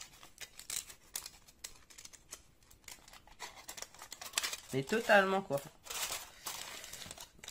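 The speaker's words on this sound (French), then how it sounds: "Ça fait un peu papier alu, comme il y a dans les paquets de cigarettes." Foil-like paper from a miniature kit crinkles in short bursts, loudest midway, with a voice speaking over part of it.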